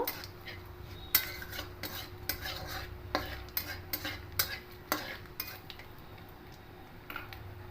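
Two bay leaves and two dried red chillies tempered in hot oil in a pan for a lentil dish, a low sizzle under repeated sharp metal spatula taps and scrapes against the pan, close and steady, with no talk.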